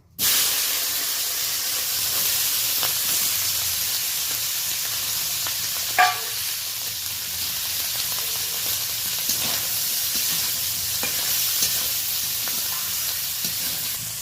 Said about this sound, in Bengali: এইবার আমি লবণ হলুদ দিয়ে শুটকি মাছটা ভালো করে ভেজে নেবো